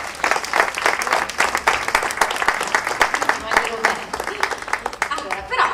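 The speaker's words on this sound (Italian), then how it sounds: "quindi io farei un altro applauso." An audience at an interview event at the Faro di Aldo Rossi in Lanciano gives a sustained round of applause, loud and dense throughout, with voices faintly mixed in.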